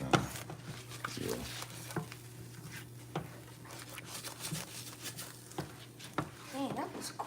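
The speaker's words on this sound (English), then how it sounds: "Just stir it right, son." A spoon stirs a cup of coffee, making soft, quiet scraping and light clinks at irregular intervals beneath relaxed conversation.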